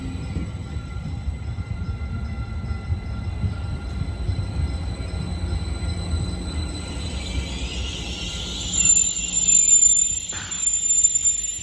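A Caltrain Stadler electric multiple-unit train pulls out of Hillsdale station, a steady low rumble with a rising whine and hiss as it gathers speed, fairly close, with no voices.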